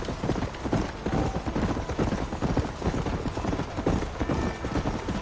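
Steady rapid clip-clop of horse hooves while riding in the Western video game Red Dead Redemption, continuous and close throughout, with no voices over it.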